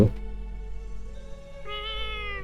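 A cat in the video game Little Witch Nobeta meows clearly in the second half, a drawn-out tonal call over a steady game backdrop with no talking.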